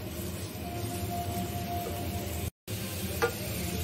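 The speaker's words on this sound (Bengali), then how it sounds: "এখন আমি পেঁয়াজের কুচিগুলোকে তেলের সাথে হালকা বাদামি করে ভেজে নিব।" Chopped onions fry in hot oil, browning lightly, with a soft, even sizzle that carries on steadily at low volume, broken only by a brief dropout of sound.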